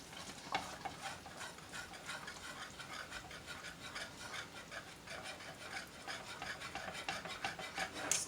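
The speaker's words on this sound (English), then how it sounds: "Let's give it a whisk." A whisk stirring a thick cheese sauce for seafood pasta in a pan, a fast steady scraping rhythm of repeated strokes, close and alone with no talking.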